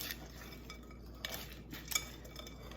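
Coleslaw with a green onion mixture is tossed lightly in a bowl, giving soft, quiet clinks and scrapes of a utensil against the bowl in a few scattered bursts.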